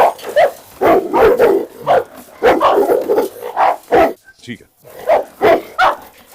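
A large Cane Corso and a Pitbull bark and yip in quick close bursts, mixed with whimpers, while a person talks over and between the barking.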